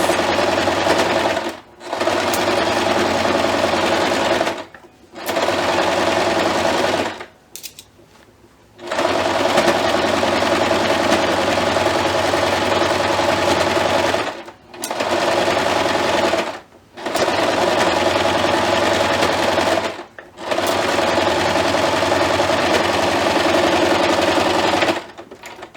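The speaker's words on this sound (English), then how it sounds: "now I'm going to sew all my ruffles, sandwich them in to my" Sewing machine stitching layered ruffles into a reversible fabric Christmas tree skirt, running in long steady bursts with several short pauses where the needle stops and the fabric is turned, close and loud.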